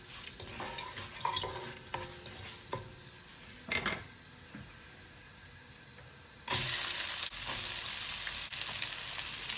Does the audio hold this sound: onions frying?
yes